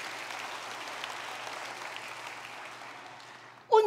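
Applause from a church congregation fills the room steadily for several seconds as a dense wash of clapping, then fades and a voice begins speaking near the end.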